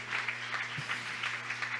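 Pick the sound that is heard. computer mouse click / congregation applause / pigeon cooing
congregation applause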